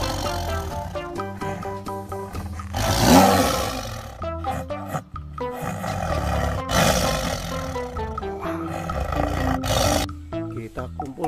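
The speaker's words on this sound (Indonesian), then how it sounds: "Di sini ada satu ekor harimau teman-teman." A tiger roars loudly and close, with a long sustained roar rising in the middle, set among other busy animal sounds and music-like tones from a toy animal discovery setting.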